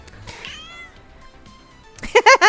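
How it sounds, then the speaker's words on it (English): A cat meows a few times, a short rising-falling cry followed by louder, sharper meows near the end, close and clear in a quiet indoor room with no talk. "Somebody meowed at you again."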